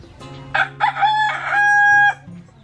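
A rooster crows loudly and close by on a farm, one drawn-out cock-a-doodle-doo over a low steady hum, with a brief cluck at the end.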